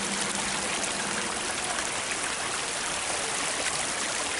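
A stream flows steadily outdoors, a continuous broad rush and trickle of moving water, close and even throughout with no voices.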